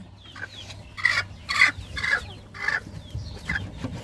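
A broody hen sitting on a clutch of eggs gives a series of about six throaty clucks at a slow, uneven pace, close and clear over a low background hum.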